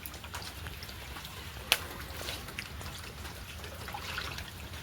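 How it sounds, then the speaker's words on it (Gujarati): Light rain patters steadily onto flooded, waterlogged ground outdoors as a soft, even hiss with scattered drips and one sharper splash, and no voices. "અત્યારે પણ થોડોક વરસાદ શરૂ છે"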